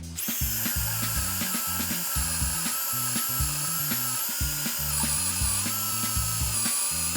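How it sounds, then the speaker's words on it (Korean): A high, whining Stanley 12V MAX cordless drill motor runs continuously at close range, with low grinding pulses underneath as the bit bores a 14 mm hole. "제가 여기다가 한번 드릴 구멍을 뚫어 볼게요"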